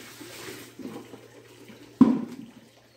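Water poured into a can over oat grain set to soak as dairy cattle feed, a soft trickle and splash that swells into a louder gush near the end, close and fairly quiet with no talk.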